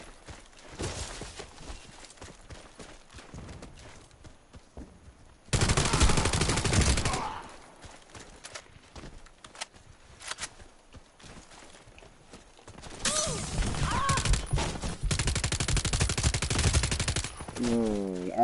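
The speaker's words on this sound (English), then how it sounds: "He is using the PPSH." Bursts of automatic fire from a PPSh submachine gun in the shooter game Warface, two loud sustained volleys separated by quieter background gunfire and movement.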